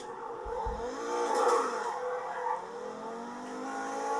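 A classic Pegassi car in GTA 5 Online revs and accelerates, its engine note rising and swelling then settling into a steady drive, fairly loud and close, with no talk.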